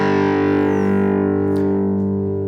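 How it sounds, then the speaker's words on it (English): An electric guitar power chord rings out with distortion, one sustained, loud, thick chord that holds steadily and slowly fades, with nothing else around it. "when you put a little bit of distortion on it, it then actually makes it sound much,"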